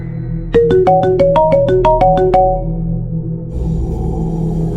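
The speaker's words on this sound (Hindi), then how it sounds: "तभी अचानक उसका फोन बजता है" A mobile phone ringtone plays a quick run of bright chiming notes in a rising and falling melody over a steady background drone, then stops and leaves the hum alone.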